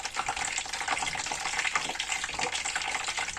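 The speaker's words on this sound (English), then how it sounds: "So I always make sure I wash my ice." Tap water runs steadily into a sink over ice being washed, a continuous splashing gush with small irregular clinks and splatters.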